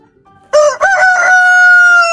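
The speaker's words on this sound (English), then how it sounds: "H for hen." A rooster crows loudly and close, one long drawn-out cock-a-doodle-doo call with no other sounds.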